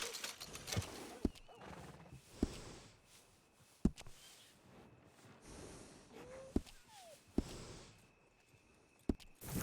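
A horse whinnies and snorts amid steady clip-clopping hooves, with sharp clicks scattered throughout, all fairly quiet and game-like, from the video game Red Dead Redemption 2.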